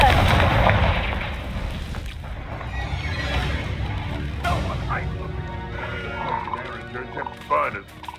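Spell blasts and explosive bursts from the Hogwarts Legacy Confringo curse ring out amid a magical duel, with heavy booms layered over game music, shouted incantations and character voices throughout.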